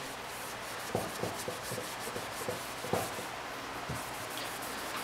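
A cloth rubs excess stain off a wooden airgun stock in a series of soft, close scrubbing strokes, steady and fairly quiet with a low room hum behind.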